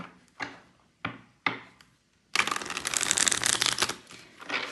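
Tarot cards tapped on a surface a few times, then shuffled in a dense, close, rapid riffling burst that runs for a couple of seconds.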